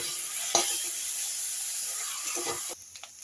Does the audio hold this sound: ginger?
yes